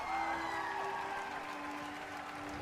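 A large crowd at a Bethesda E3 2019 presentation applauds and cheers steadily, a distant, even wash of clapping with music or tones running underneath.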